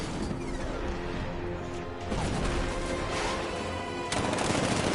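A 60mm cannon fires in the video game Batman: Arkham Knight, a heavy, sustained barrage of booming blasts with crashing impacts that swells again near the end, with no talk over it.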